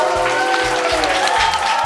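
An audience applauds at a school team event, a dense, steady burst of many hands clapping close by, continuing for about two seconds.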